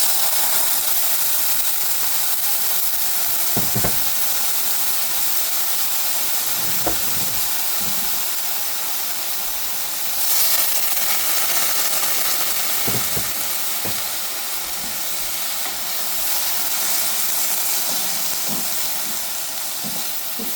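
Cumin and garlic frying in a warm pan while Mexican rice is cooked, giving a steady broad sizzle and hiss over the whole stretch, with a few soft clinks and knocks of the pan.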